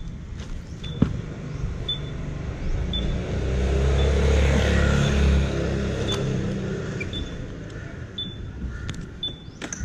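A car driving on the road while doing Grab food deliveries in Thailand gives a steady, low interior engine and road rumble that swells briefly in the middle, with faint, regular ticking clicks over it.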